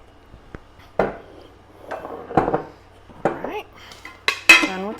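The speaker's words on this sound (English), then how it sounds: "So I'm just going to use it and put 4 scoops in there." Sugar scooped four times into a bowl with a measuring cup for a chess pie, giving a few sharp clinks and scrapes of metal against the bowl, spaced about a second apart, close and fairly loud, with brief faint voice sounds between.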